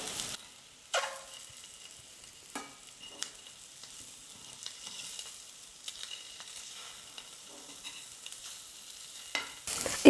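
Eggs coated in masala fry quietly in a pan, giving a soft continuous sizzle broken by a few sharper scrapes and clatters as they are stirred and turned.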